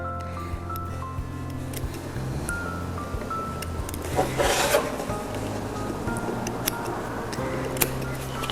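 Quilt batting trimmed away beside an embroidery machine gives soft, close rasping and rubbing sounds with scattered light ticks and clicks, a brief louder scratchy burst midway, and no talk.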